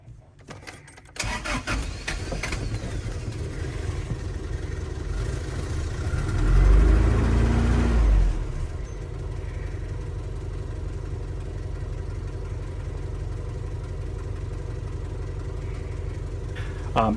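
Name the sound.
car engine starting and idling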